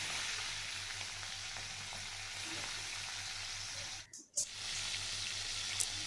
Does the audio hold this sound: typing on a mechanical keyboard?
no